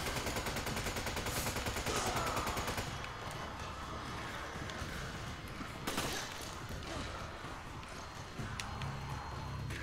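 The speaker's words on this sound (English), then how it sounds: "it's a triple barrel shotgun!" Triple barrel shotgun from Resident Evil 5, infinite ammo and fully upgraded, fires in rapid booming blasts through the first few seconds, then gives way to quieter game ambience with occasional impacts.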